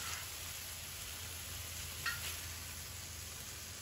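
Beef and aromatics sizzle steadily in a hot wok, a faint, continuous frying hiss with a brief stirring scrape midway and no talking.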